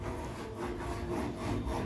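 A saw cuts through wood during work on a wooden door frame, making steady rasping back-and-forth strokes at close range with no talking.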